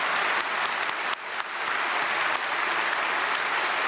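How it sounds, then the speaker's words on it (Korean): A church congregation at a special dawn service applauds, with continuous, fairly even clapping from a large crowd and a brief dip partway through. "차량부에도 박수."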